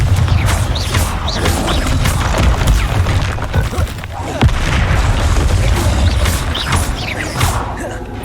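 A Confringo explosion spell in Hogwarts Legacy sets off dense, loud blasts and crashing impacts. Heavy rumbling booms continue throughout with clattering debris.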